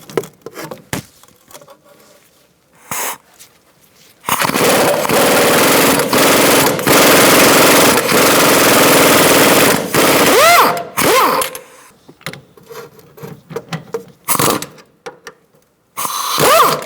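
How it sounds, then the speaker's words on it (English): An impact wrench with a 17mm socket rattles loose the top bolt of the upper control arm on a 2002-2006 Honda CR-V's rear suspension, one long, loud, steady burst framed by short clicks and shop noise. "using a 17mm socket, I'm going to take out this top bolt for our upper control arm"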